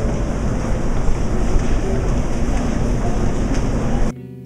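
Moscow metro train rumbling through a station, a dense continuous roar of wheels and carriage noise that stays loud throughout before cutting off abruptly near the end.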